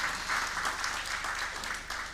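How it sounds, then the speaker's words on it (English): Moderately quiet applause rises from the audience at a conference on innovation and technology for gender equity, a steady patter of many hands that stays even throughout with no one speaking, over a faint low hum. "Please also give her a round of applause."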